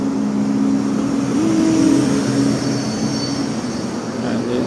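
A city bus passes on a street in Vilnius. A low rumble carries a tonal whine that rises, peaks near the middle and fades, under steady traffic noise, with no talking.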